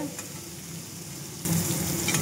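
Paneer sizzles in a little oil in a pan while being stirred, a steady close frying hiss that swells louder near the end.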